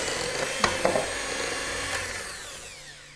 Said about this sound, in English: And then beat again with the mixer.